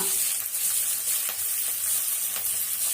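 Urad dal, curry leaves and green chilies frying in hot oil give a steady, close sizzle with a few soft crackles and stirring clicks, with no talking over it.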